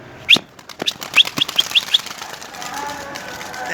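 A burst of wing flaps and sharp chirps from pigeons lifting off close by at their coop, the flutter fading after a couple of seconds into quiet outdoor background.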